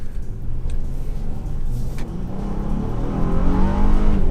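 A 2018 Honda Ridgeline RTL-E V6 pickup truck accelerates, its engine note building steadily and growing louder toward the end, heard from inside the cabin with no talking.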